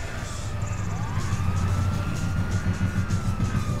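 A police siren wails in Grand Theft Auto V, its rising and falling tone sounding continuously over loud engine rumble and traffic noise.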